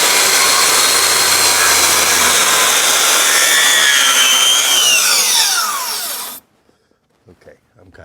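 Hand saw cutting timber in a timber frame joinery setting, loud continuous rasping strokes close by that end abruptly, followed by brief quiet with faint handling sounds.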